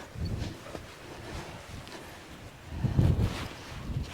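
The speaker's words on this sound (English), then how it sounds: "It's still windy." Wind gusting at a highland wild camp in Glen Lyon, a low rumbling buffet against the microphone that swells and eases, strongest in a gust near the end, with no talk.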